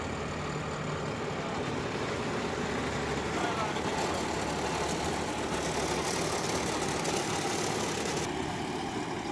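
A John Deere 5075E CRD tractor engine works a banana field, a steady broadband rumble holding constant revs throughout, loud and close, with no clear talk over it.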